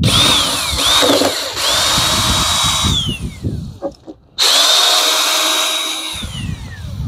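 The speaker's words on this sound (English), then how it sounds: "helps to have a good screwdriver, battery power" A battery-powered screwdriver backs screws out of the hood cover on an MT85, with two long high-pitched whirring bursts, each ramping down as the screw frees, separated by brief quiet and faint handling clicks.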